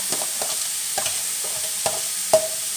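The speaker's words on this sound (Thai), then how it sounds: "ผัดหมูจนสุกค่ะ" Pork stir-fries in a pan, with a soft background sizzle broken by several distinct spatula scrapes and clacks at uneven intervals, including one sharper knock near the end, close up and with no talking.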